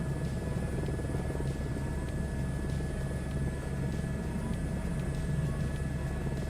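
Helicopter landing in the video game Microsoft Flight Simulator 2024, a steady rotor drone and engine hum that stays level and continuous throughout, fairly loud, with no talking.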